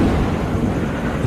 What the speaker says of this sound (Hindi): अंधेरी रात में कड़कड़ाती बिजली के साथ तेज तूफानी बारिश हो रही थी।